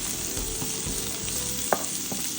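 Chopped onions sizzling with salt in a hot pan, a steady close frying hiss broken by a few faint spatula scrapes and one sharp tap near the end.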